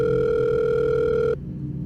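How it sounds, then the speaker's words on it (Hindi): A telephone line tone sounds steadily as a call is placed to a guest house, holding for over a second before cutting off into quiet room noise. "अभी उस फ़ोन नंबर पे कॉल करता है"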